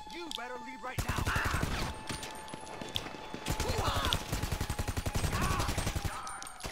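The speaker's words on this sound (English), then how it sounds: "Alright, everybody start shooting." Rapid bursts of gunfire from a GTA V Cayo Perico heist shootout, dense rattling volleys with repeated single shots, loud and continuous over several seconds with brief voices in between.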